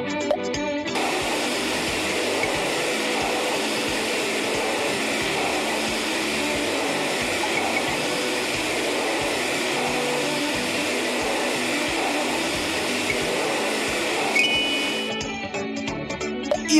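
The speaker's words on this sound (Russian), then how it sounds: "Теперь смываем пену." Cartoon sound effect of water spraying foam off a car at a kids' cartoon car garage, a steady loud hiss of rushing spray that runs for about fourteen seconds alone, then cuts off.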